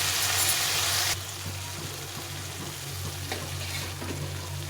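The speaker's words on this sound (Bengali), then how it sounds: "আলুটা ভালো করে ভেজে নিচ্ছি একদম" Potatoes frying with spices in a pan for a fish curry, a steady close sizzle that drops slightly in intensity after a second, with soft stirring scrapes.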